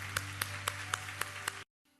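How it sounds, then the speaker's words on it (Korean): A church congregation applauds. Dense, steady clapping fills the hall over a low hum, with a few louder claps standing out, and it stops abruptly. "우리 하나님께 감사와 영광의 박수를 드리겠습니다."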